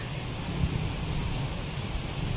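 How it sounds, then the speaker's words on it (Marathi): Steady, even rain seen from a balcony fills the whole stretch, a constant dense patter with no voices or breaks. "हे बघा पाऊस कसा आहे नजारा"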